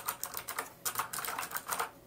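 Rapid keystrokes on an affordable gaming mechanical keyboard with Cherry MX switches, crisp clicky taps in quick bursts with a brief pause, close and alone without talk.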